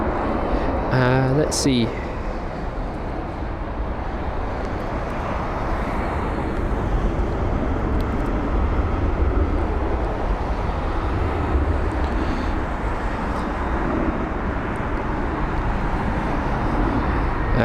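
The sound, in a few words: aircraft arriving at London Heathrow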